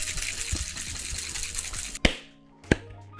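Mai Tai made with light, dark Jamaican and Demerara rums and orange liqueur whip-shaken in a cocktail shaker: a rapid rattling, sloshing shake, then two sharp knocks as it stops.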